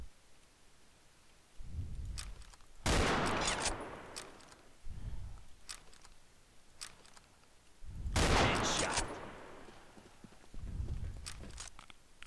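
Gunfire in the online shooter Combat Arms: two dense, loud bursts of rapid fire with heavy low thumps between them, plus scattered single shots and softer impacts, with no voices.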